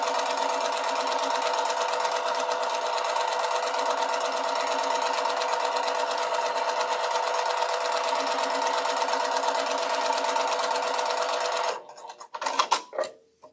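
A sewing machine runs continuously while stitching a seam on a quilt block, with a steady rapid mechanical whir and needle chatter for about twelve seconds before stopping, followed by a few brief clicks and handling noises.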